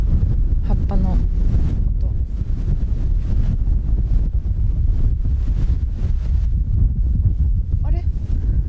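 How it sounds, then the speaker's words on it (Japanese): Strong wind rushing through the leaves of a tree during a blustery seaside walk, a loud continuous roar and rustle with heavy microphone buffeting, a voice briefly heard near the start and end. "葉っぱの音。"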